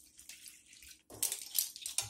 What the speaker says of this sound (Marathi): गरजे इतपत यामध्ये पाणी घालणार आहोत